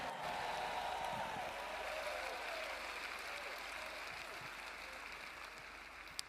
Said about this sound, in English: Come on, give Jesus a great hand clap one more time.